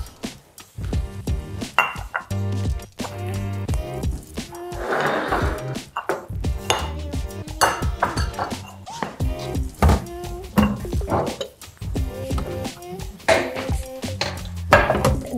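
A spoon clinks and scrapes against a bowl as halva is served, with irregular sharp taps, knocks and clatters spread through the clip at close range and no speech.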